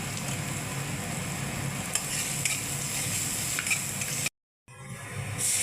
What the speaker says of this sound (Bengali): দেখেন বন্ধুরা, মশলা কষানো হয়ে গেছে।